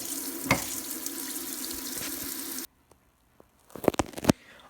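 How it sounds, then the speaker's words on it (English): Water from a hose sprays onto a household fan part during cleaning, a steady hissing spray for a few seconds that cuts off into silence before short, loud bursts of splashing return. "just hose it down like this for the entire part"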